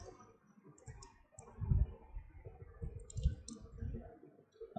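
Computer mouse clicking while working in Photoshop: quiet, sparse clicks at close range over a faint room background, with no one talking.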